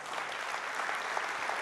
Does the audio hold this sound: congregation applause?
yes